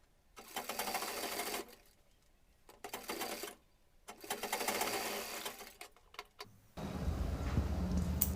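A sewing machine stitches the shoulder seams of a full-flared anarkali gown in three close, loud bursts separated by short pauses, followed by a different steady rushing noise at the end.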